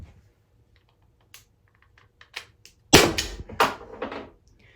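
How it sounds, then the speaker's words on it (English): Byrna LE less-lethal launcher firing: quiet clicks and handling noises give way to a sharp, close pop with a brief ringing impact after it, then a few fainter knocks. "Shot number 2 should be a little better."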